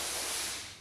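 A short burst of RM 902 Plastic Prep Cleaner sprayed from a spray gun onto raw plastic bumper parts, a steady close hiss that tapers off at the end.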